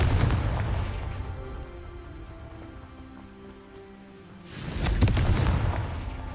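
A Confringo fire spell blasts in Hogwarts Legacy: two loud, broad explosive bursts, one at the start and another near the end, with a dull rumbling tail and a steady musical drone between them.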